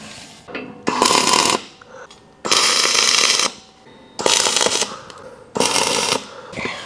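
Tack welding a bottle skid into place, four short bursts of harsh crackling arc, each about a second long, separated by quiet gaps, loud and close.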